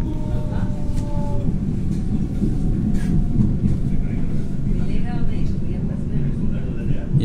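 A Melbourne metro train rolls into the next station, a steady low rumble of wheels and carriage noise with faint squeals as it slows, while a person talks over it.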